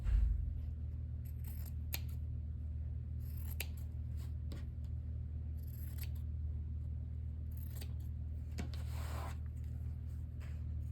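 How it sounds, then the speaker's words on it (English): Scissors snip paper for a junk journal, a series of crisp close cuts at an uneven pace over a low steady background hum, with no talking. "I'm gonna cut it first"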